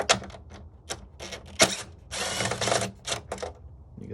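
A ratchet with a 10 mm socket loosening a bolt on a 2018 Mustang GT during a cold air intake install: bursts of quick clicking ratcheting, one sharp knock and a longer buzzing run, close and clear.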